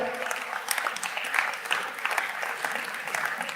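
A banquet audience applauds the Michelin-starred chef Thierry Marx, with a dense, even roll of many hands clapping that holds steady throughout.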